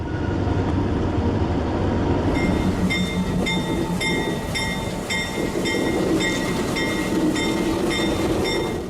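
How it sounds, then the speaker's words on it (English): Santa Fe San Francisco Chief passenger train number 1 departs Richmond westbound, crossing Girard Boulevard, with a loud continuous rumble of wheels and cars passing close by and repeated rhythmic clicking over rail joints. "Westbound San Francisco Chief Train Number 1 leaves Richmond and crosses Girard Boulevard as it enters the Oakland District"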